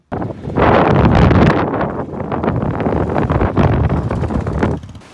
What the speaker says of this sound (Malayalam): കഴിഞ്ഞ ദിവസത്തെ അപേക്ഷിച്ച് കാറ്റിന് കുറവുണ്ടെങ്കിലും ഇപ്പോഴും കാറ്റ് മാറിയിട്ടൊന്നുമില്ല